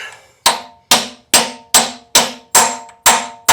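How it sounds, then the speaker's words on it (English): A part is hammered into place during a Jeep XJ clutch replacement: eight sharp, ringing metallic strikes at an even pace, each decaying quickly, loud and close with no talk. "Could hear the pinging. Tells us it's seated."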